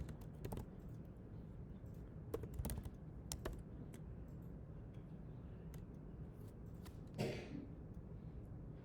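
Keyboard keys tapped on a computer while entering a search in Unity's package manager, a scattered run of soft clicks over a steady background hum, quiet and close.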